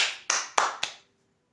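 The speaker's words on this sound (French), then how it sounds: "tu entends comment les gens applaudissent" A few sharp hand claps ring out one after another, spaced unevenly and echoing briefly, then stop abruptly into silence.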